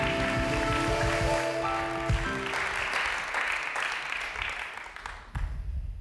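Studio audience applause on a Turkish television show, broad clapping that starts over lingering music tones, swells, then fades out near the end.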